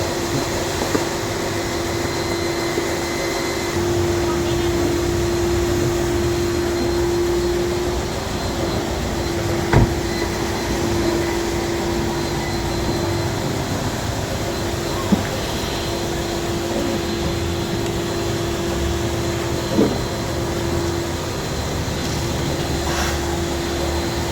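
Vacuum cleaner sucking up dust, a continuous loud droning hum with a steady tone throughout, broken only by a few faint clicks and knocks.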